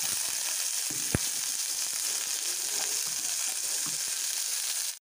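Sliced bitter gourd and potato fry in hot oil with panch phoron, giving a loud, continuous close sizzle with a single sharp tap partway through, then cutting off abruptly.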